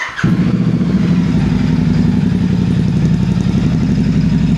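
Royal Enfield GT650 motorcycle with an aftermarket exhaust, its engine running loud and close with a steady throbbing idle, rough and lumpy in rhythm, alone without talk.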